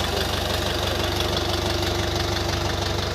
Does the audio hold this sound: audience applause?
no